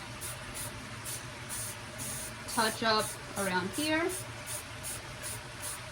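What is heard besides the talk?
spray paint can spraying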